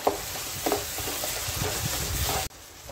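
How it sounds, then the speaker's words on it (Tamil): Onion and tomato sauté in a hot pan for shark fish gravy, giving a steady close sizzle with a few stirring scrapes near the start before the sound drops off abruptly. "நல்லா கிரேவி ஆகிற வரைக்கும் நல்லா இதை வதக்கணும்."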